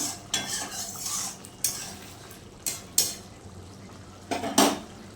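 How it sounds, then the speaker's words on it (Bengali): Potato curry stirred in a pan with a spatula: sharp metallic scrapes and clinks against the pan recur at irregular intervals over a soft background, close and fairly clear with no talk. "তাহলে একটু খুন্তিতে দিয়ে একটু নাড়িয়ে চাড়িয়ে দিয়ে"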